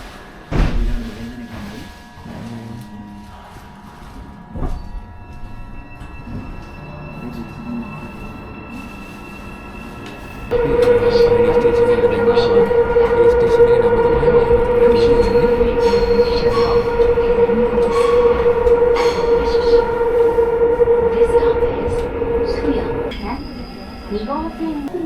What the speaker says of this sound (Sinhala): දැන් ඔයාලා මේ පේන්නේ ට්‍රේන් එක අපෝ යනවා.